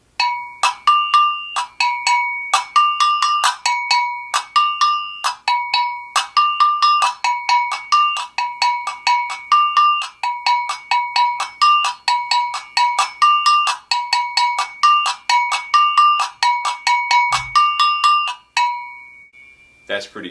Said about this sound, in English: allow you to click the bell. So I can actually play a click in between my pattern